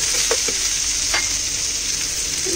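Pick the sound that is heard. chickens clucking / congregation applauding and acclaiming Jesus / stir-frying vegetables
stir-frying vegetables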